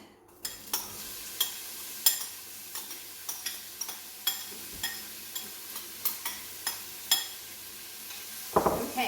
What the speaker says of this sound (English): I'm just spreading the onions in the oil and making sure that everything is coated.